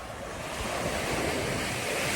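Ocean waves at Leela Beach in Kovalam, a continuous broad roar of surf with wind buffeting the microphone, loud and close.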